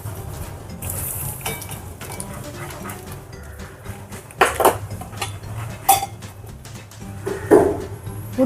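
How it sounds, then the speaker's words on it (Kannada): Dishes being washed in a home kitchen: steel pots, plates and cutlery clatter and clink in irregular bursts, a few sharp knocks standing out over a low background, with a dog whimpering briefly. "ಪಾತ್ರೆ ತೊಳೆದಾಯಿತು"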